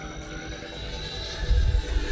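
A Horizon Hobby RC jet flies aerobatics, its steady engine whine and rushing airflow holding at mid-throttle, with a low rumble swelling in the final second.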